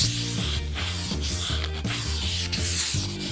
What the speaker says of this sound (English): I just got this piece of 220 sandpaper. And I just want to take down the edges on this.